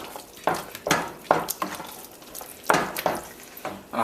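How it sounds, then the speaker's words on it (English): An Italian meat sauce is stirred in a large pot, with a spoon scraping and knocking in irregular strokes and a wet, chunky sloshing under a low cooking hiss. No one speaks. "Give that a stir."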